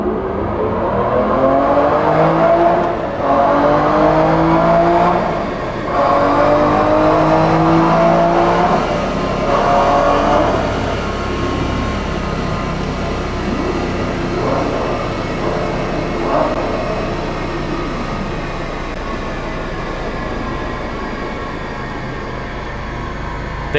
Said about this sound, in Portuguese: passar algumas marchas em plena carga e ver se a gente vê aquela hesitação